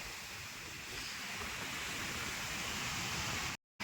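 Rough sea waves roar continuously at Someshwar Beach, a broad, loud, steady surf wash with wind blowing across the microphone, ending abruptly.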